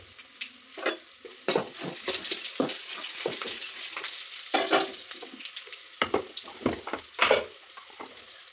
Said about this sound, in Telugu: అదిగోండి కాకరకాయ బాగా మగ్గుతుందండి